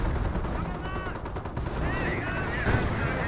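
Sustained battlefield gunfire in the World War II strategy game Company of Heroes, rattling volleys pouring onto an infantry squad amid a dense, steady din, with voice-like tonal calls cutting through the mix.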